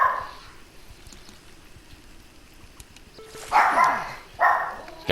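A dog aboard a bass fishing boat during a tournament gives two sharp barks near the end, after several seconds of quiet water and engine hum.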